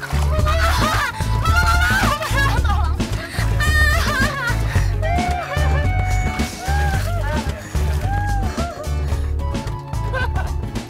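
A goose honks repeatedly in a loud, busy mix, its calls rising over a steady pulsing musical backing with voices.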